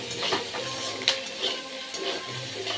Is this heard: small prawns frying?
yes